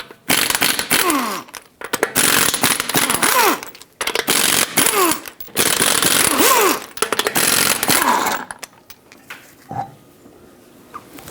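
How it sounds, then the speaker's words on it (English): A socket spins lug nuts off the front wheel of a 2013-2020 Nissan Pathfinder, loud repeated bursts of ratcheting whir separated by short pauses, ending in a metallic clink and quiet. "Use a 21mm socket, take all 5 of your lug nuts off, and then take the wheel off."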